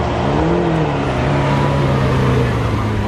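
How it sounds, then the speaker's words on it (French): A Ferrari Portofino pulls away, its engine revving with a rising, rumbling tone that stays steady and fairly loud throughout amid outdoor noise. "La Portofino qui repart là-bas."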